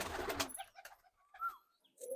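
Pigeons coo in a loft, a few soft, throaty calls spaced out over quiet, after a brief rustling burst at the start.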